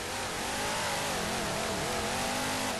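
The Warthog vehicle in Halo 4 revs its engine in a steady, loud, continuous whine that rises and falls in pitch, with no voices over it.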